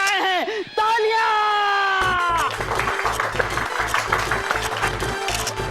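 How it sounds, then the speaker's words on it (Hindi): An audience bursts into steady, dense clapping at a sitcom gathering after a statue is brought in, following a brief rising musical sting; the applause fills the rest of the clip close and loud, mixed with a thumping beat. "तालियां।"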